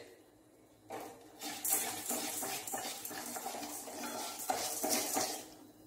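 Chili powder and spices roasting in oil in a pan, with a steady sizzle and repeated scraping and clinking of a utensil against the pan, close and fairly loud throughout after a quiet start.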